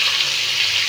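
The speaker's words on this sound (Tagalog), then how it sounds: "Lalagyan na natin ng konting toyo at tubig." Soy sauce and water are poured into pork adobo sautéing with garlic, pepper and bay leaf, giving a loud, steady hiss and sizzle that lasts through the brief moment.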